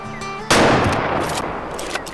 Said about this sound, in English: Prepare for second shot before he runs off.